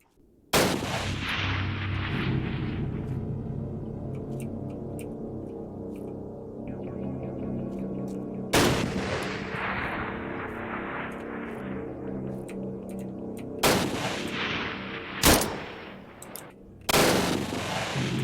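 Loud gunfire in the Art of War 3 wargame, set in a Vietnam conflict campaign, with sharp shots and bursts at irregular intervals over a steady low rumble, some cracks trailing into long echoing decay.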